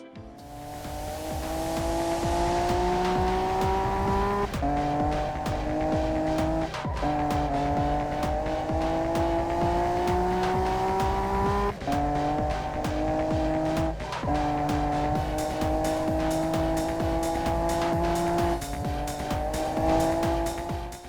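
Racing car engines roar continuously with rising revs and gear shifts, punctuated by tire squeals, loud and close throughout.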